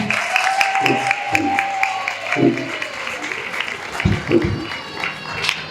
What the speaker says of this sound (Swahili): Makofi mengi kwa ajili ya Yesu.